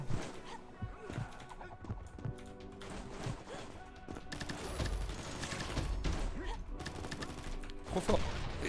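MAC10 hip-fire in the shooter game Combat Master comes as rapid, rattling bursts of shots mixed with busy game effects, fairly quiet and continuous over several seconds.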